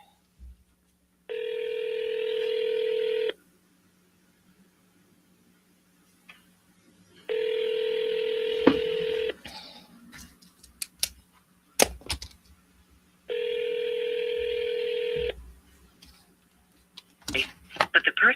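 Telephone ringback tone on an outgoing call, three long evenly spaced rings with silences between, followed by faint clicks and handling noise.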